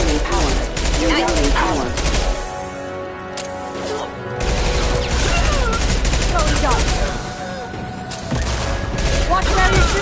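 Dense, loud gunfire rattles through a Mass Effect 2 firefight, with rapid bursts and shots overlapping in near-constant volleys and a short lull in the middle, while voices call out over the shooting.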